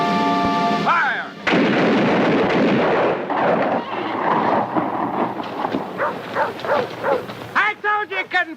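Artillery cannons fire in a western film battle, a loud booming volley followed by rolling blasts and rumbling, with shouting voices and dogs barking through the din.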